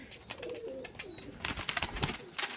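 Racing pigeons coo softly in a loft, a few low murmuring calls near at hand amid rustling, fluttering and shuffling noises.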